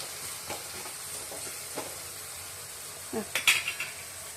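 Onions stirred in a pan with a spoon, soft scraping strokes and light clinks of utensil on metal over a faint sizzle, closer scrapes bunching near the end.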